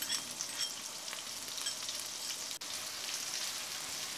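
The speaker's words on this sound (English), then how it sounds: "Then add the onions to the pan" Onions frying in a pan for king fish (seer fish) masala, a continuous close hiss of sizzling oil with faint crackles, steady throughout with one brief dip.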